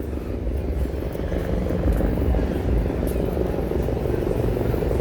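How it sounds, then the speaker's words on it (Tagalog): Helicopter circling over the Corniche in Abu Dhabi on New Year's night, a continuous loud rotor drone with a low pulsing beat that holds steady throughout. "ayun yung helicopter oh balik-balik"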